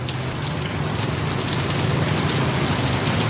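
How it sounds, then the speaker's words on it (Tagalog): Heavy rain falls in a steady, dense roar of drops on surfaces, close and constant with no break and no voices. "Masipag talagang ulan dito, Ate Jocelyn Hernandez."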